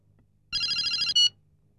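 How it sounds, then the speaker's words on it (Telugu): A telephone rings once with a bright, trilling electronic burst that ends abruptly in an otherwise quiet room. "Sir phone."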